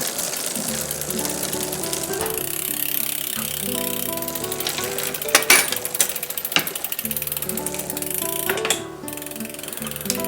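Rock Hopper mountain bike drivetrain running in the big chainring, a steady mechanical whir with ticking, clicking gear and chain noises, brief sharper clacks midway and near the end, no talking.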